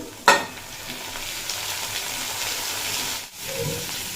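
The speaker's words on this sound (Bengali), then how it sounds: "পেঁয়াজটা বেশ নরম করে ভেজে নিয়েছি এরপর এড করে দেব আলু" Onions and potatoes fry in a pan, a loud clack at the start, then a steady close sizzle with stirring scrapes and a short break before the sizzle resumes.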